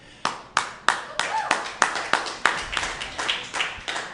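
A small group claps at a ballpark gathering, about a dozen sharp, distinct hand claps in a loose, uneven rhythm, close and fairly loud, with a faint murmur of voices underneath.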